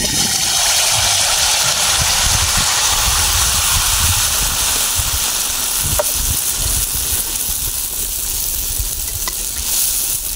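Palm-fruit pitha cakes fry in hot oil with a loud, continuous sizzle and hiss, with faint bubbling and small clinks of utensils close by.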